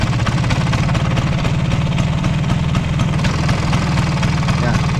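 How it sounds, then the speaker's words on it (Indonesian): A Vespa scooter engine with an abnormal internal noise is revved up close, a loud steady mechanical drone with a rapid rattling, knocking pulse running through it. "Saya akan kasih tahu gimana cara kalian mendeteksi bunyi-bunyi aneh dari dalam mesin teman-teman ya"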